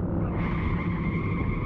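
A drunk driver's car skids as it loses control entering a curve, a sustained tire squeal with engine roar holding steady and fairly loud throughout, no voices.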